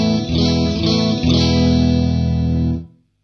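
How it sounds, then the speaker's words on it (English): A Redhouse S-style electric guitar with Klein S1 pickups plays clean chords in stereo through Marshall Bluesbreaker and Albion amps, three strums ringing with a shimmering effect before cutting off. "First of all, the clean sound. This is a Redhouse S-Style guitar with Klein S1 pickups in it"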